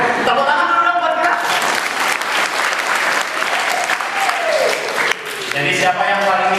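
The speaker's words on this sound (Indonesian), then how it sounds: "Tepuk tangan dulu dong buat kita." Audience applause fills a student motivation training session at a vocational school, steady and loud clapping from a crowd for several seconds, with a voice speaking over it near the end.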